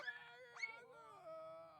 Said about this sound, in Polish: Jakiś piesek szczeka.